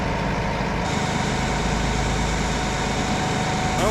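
A farm tractor engine idles steadily in a field setting, a continuous low, even rumble that holds close and constant throughout, with a brief rattling change near the end and no voices.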